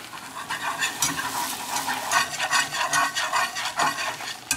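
Flour is whisked into melted butter in a pan over medium heat for bechamel, a quick run of light scraping and clicking strokes over a soft sizzle, close and fairly steady, with no voices.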